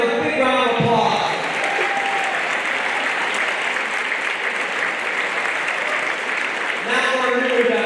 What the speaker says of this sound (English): Let's give our Hall of Famers a big round of applause.